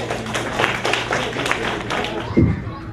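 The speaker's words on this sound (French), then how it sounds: "Applaudissez-le." An audience claps for a performer at an event, giving a dense, steady patter of applause that runs throughout, with voices mixed in.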